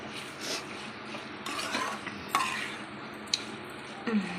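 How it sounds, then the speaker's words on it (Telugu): Eggplant fry (vankaya fry) being stirred in a pan, with scraping and clinking of a spatula against the metal amid a soft sizzle, a few louder knocks standing out near the end. "అది కూడా ఒకసారి బాగా మిక్స్ చేసేసుకోవాలి"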